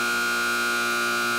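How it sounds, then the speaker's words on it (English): A steady, loud buzzer sounds continuously at a cattle dog trial, a harsh electronic drone with no breaks or talking. "Boy, that buzzer is loud."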